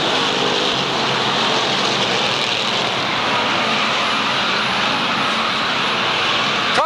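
Limited sportsman race cars roar around the Waterford Speedbowl oval in a dense, continuous engine drone, several cars racing close together for position, loud and steady throughout.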